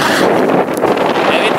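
Strong wind buffets the microphone while kiting across powder snow in the fells, a loud steady roar with gusty rustling throughout.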